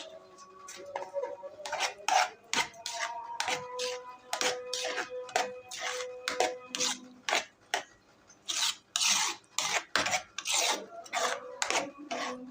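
A spoon scrapes and rasps around a pot of bissara seasoned with black pepper, cumin and salt, making a rhythmic run of close, gritty strokes that quickens and grows louder toward the end.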